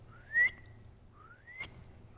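A voice imitates asthmatic wheezing as two faint, thin rising whistles, each sliding upward and then holding, separated by a short pause.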